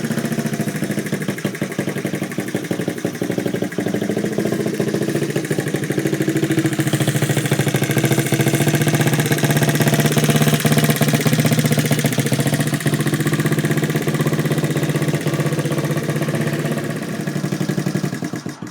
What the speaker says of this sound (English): So we're gonna start the bike, get it nice and hot.